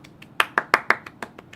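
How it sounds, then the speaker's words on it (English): One person claps close by, about nine times in quick succession; the first couple are soft and light, then several loud, sharp smacks follow before easing off again. "Sorry, that was really loud. I'm trying to do golf clap."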